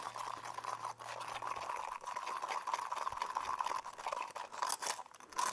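Crunchy, gritty scraping churns steadily as resin mixed with marble powder is stirred, a continuous sandy grinding up close without pause.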